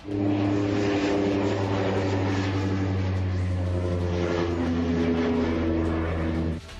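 Steady, loud engine drone of a new Russian Altius unmanned aircraft on a flight test over Kazan, a continuous propeller-driven hum with strong low harmonics holding constant for several seconds before cutting off abruptly.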